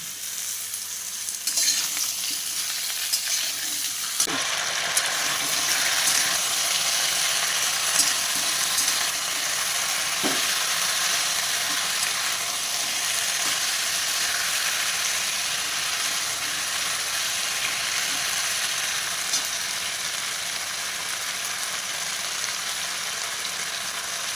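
Thick-cut potatoes, eggplant and tomato frying with five-spice in a pan, a continuous close sizzle with occasional stirring knocks throughout.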